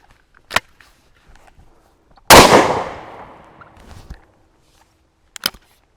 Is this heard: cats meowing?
no